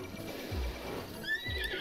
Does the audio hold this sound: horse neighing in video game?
yes